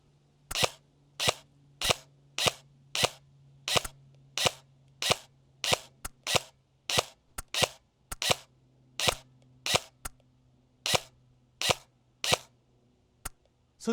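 UTR-45 airsoft submachine gun firing at a human-sized target 150 feet away, about twenty sharp single shots in a steady, slightly uneven rhythm, loud and close with a faint low hum beneath.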